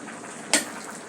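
Rui fish head and Malabar spinach frying in a pan give a steady close sizzle, with one sharp scrape of stirring near the middle.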